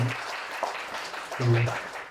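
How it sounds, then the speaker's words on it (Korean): An audience at a Korean community project results-sharing event applauds the presenting teams. The clapping is moderate and continuous, with a voice breaking in briefly near the middle and again toward the end. "우리 함께한 7개 팀에게 박수 좀 보내주시죠"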